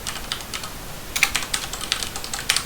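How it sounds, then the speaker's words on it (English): Touch typing on a computer keyboard while exploring a KDE desktop, a run of quick irregular key clicks, sparse at first and then denser and louder, close and alone. "or should I say my touch typing is off of today"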